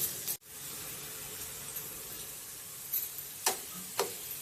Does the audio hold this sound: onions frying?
yes